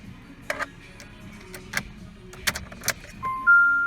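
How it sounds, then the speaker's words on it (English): A key jangles and clicks as it turns in the ignition of a Jeep Renegade, a few sharp metallic ticks close by over a low hum, ending in a steady electronic chime. "I'm going to turn the ignition on."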